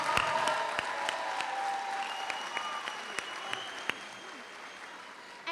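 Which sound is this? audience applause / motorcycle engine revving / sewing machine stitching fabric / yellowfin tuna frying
audience applause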